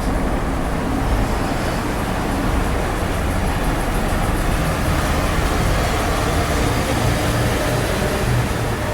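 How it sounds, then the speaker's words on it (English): A Joondalup Line train arriving near Perth, a steady loud rumble of wheels and motors with a faint high whine, rolling continuously without talk. "In comes the train."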